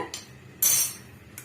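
A spoon scrapes and clinks against a bowl while adding two tablespoons of maida flour for a madakku poori paste, with a short soft tap, then a louder bright scrape and a faint clink at the end.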